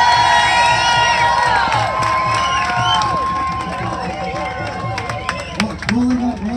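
A crowd cheers, whoops and shouts in a loud sustained swell at a public event in Vancouver, BC honoring doctors on stage, the roar continuing across the whole stretch with scattered individual yells.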